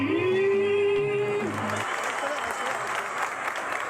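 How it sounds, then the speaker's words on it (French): Applause dubbed onto a TV show's soundtrack during a lookalike contest follows a held, sustained musical or sung note; a crowd clapping breaks in and continues as a broad, steady wash. "Ils ont rajouté des applaudissements, là aussi"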